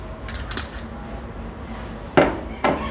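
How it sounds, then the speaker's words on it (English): A metal pan is set down on a cooker with a couple of sharp clanks and light kitchen knocks against a quiet background hum, close up and without talk. "Keep a pan and add little oil"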